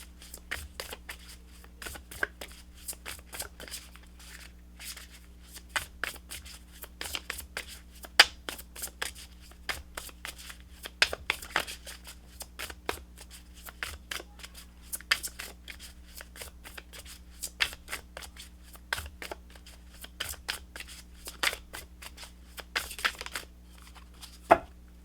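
Oracle guidance cards shuffled in quick, dense riffles and flicks, nearly continuous for a long stretch, close and crisp against a low steady hum, with no talking.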